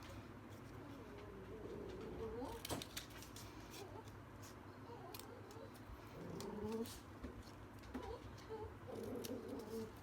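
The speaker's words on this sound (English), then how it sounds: "I've just put the bear's arms down there, and I'm trimming off the excess" Scissors snipping away excess fabric around a stuffed bear's arms while sewing: a series of quiet, irregular cuts with soft crisp clicks, faint over a low background hum.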